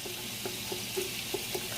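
Garlic and sun-dried tomato frying in oil over a fire for shrimp rigatoni, a soft steady sizzle with faint pops, close but low, with a small clink near the end.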